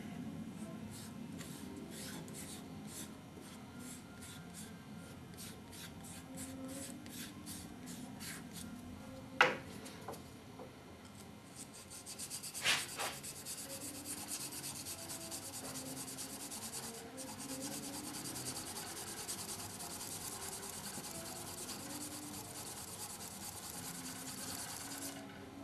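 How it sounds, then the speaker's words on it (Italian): A steel chisel rubbed back and forth on an MDF tile with automotive polishing compound, a soft continuous scratchy rubbing with a couple of faint clicks, quiet and close. "Potete ultimare la lucidatura sulla solita mattonella di MDF con un po' di pasta per carrozziere"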